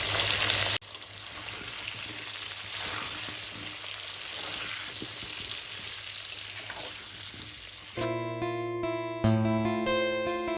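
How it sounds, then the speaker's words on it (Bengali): Steady, dense sizzling of potatoes with turmeric and salt frying in hot oil, close by, continuing for several seconds before music cuts in near the end. "হলুদ এবং লবণ দিয়ে আলুটাকে ভাজবো"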